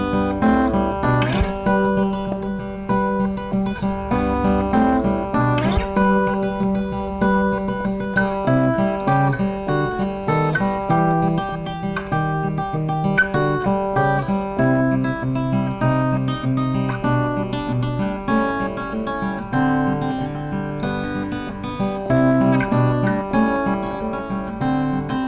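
Acoustic guitar fingerpicks a song, a steady run of plucked notes and ringing bass strings played solo and close, with no talking.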